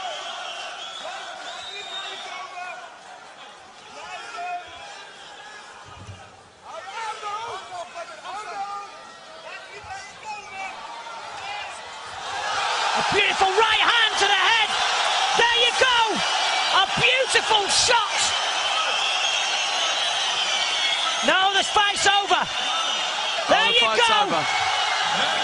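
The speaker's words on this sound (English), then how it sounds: "The crowd go absolute crazy for the bad boy." A large kickboxing arena crowd at a Badr Hari fight roars and cheers, the din swelling loud and sustained in the second half with sharp whoops and bursts over a steady hubbub, commentary voices heard within it.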